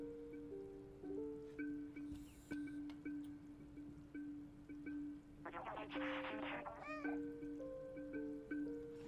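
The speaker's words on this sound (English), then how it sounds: "Aw, kitty noises" A cat in the Stray video game meows in a short cluster of rising and falling cries near the middle, set against a steady, sustained musical drone and soft ambient noise.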